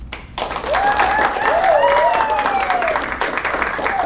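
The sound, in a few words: audience applause for a graduation speaker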